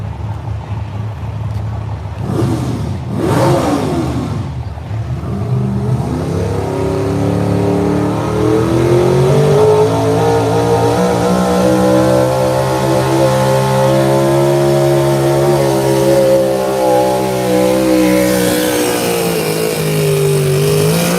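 A red Duramax diesel pickup revs hard at a truck and tractor pull, its loud, close engine roar climbing and then holding a sustained, rising drone for about twenty seconds.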